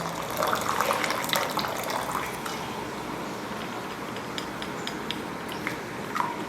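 Cold water is poured over boiled Maggi noodles as they drain, making a steady hissing splash and trickle that runs for several seconds, close and continuous, with a few brighter spatters.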